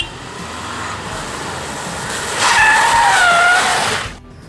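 A Tata Indica eV2 hatchback driven hard on the road, a loud steady rush of engine and road noise swelling midway with a brief tyre squeal before cutting off abruptly.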